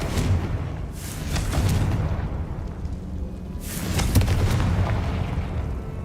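Blasting spell explosions from the Hogwarts Legacy video game, two heavy booming bursts a few seconds apart, each a loud rumbling blast with a noisy crackling decay over steady ambient rumble.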